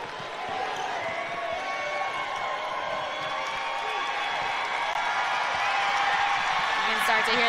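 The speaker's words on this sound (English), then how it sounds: "You can start to hear the Danville crowd getting excited as they know what's about to come their way." Danville fans at a girls' high school basketball state championship game build into a steady, excited roar of cheering, dense crowd noise rising slightly in intensity across the whole stretch.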